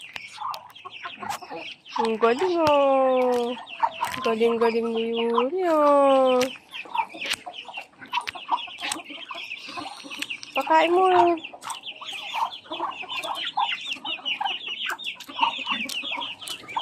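Hens and a rooster cluck in bursts, close by, as they are fed, while a child and an adult talk over them; ducks are nearby.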